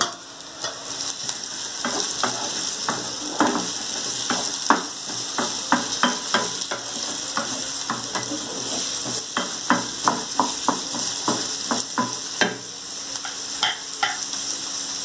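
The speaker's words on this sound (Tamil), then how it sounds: "இப்போ எண்ணெய் சூடாயிடுச்சு, இந்த வெங்காயத்தை அந்த எண்ணெயில் போட போகிறோம்." Onions fry in hot oil for a Coimbatore-style egg tomato onion masala, with a continuous sizzle and a long run of rhythmic, close spatula taps and scrapes against the pan.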